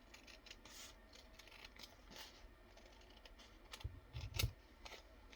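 Paper being cut down to size for a pocket in a Victorian botanical junk journal, with soft scattered snips and rustling that build to a louder burst of cutting near the end, close by and alone.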